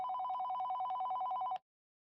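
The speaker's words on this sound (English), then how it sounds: "my phone rang." A phone rings with a steady electronic warbling tone for about a second and a half, then cuts off abruptly into silence, clear and unaccompanied by voices.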